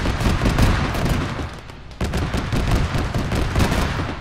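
Dense bursts of automatic gunfire rattle through a military shooter game, ShackTac, rapid overlapping shots with a brief lull near the middle before the volley resumes, loud and continuous.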